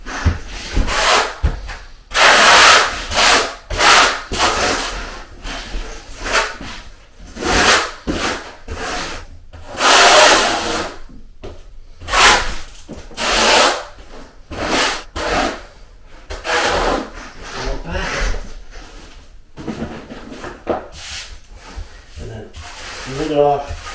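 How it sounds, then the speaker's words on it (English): Trowel spreads mortar mud during a curbless shower install, a series of close, loud scraping strokes in uneven rhythm, each a rasping sweep of a few seconds with short gaps between. "I am going to first flat trowel and then do the notches."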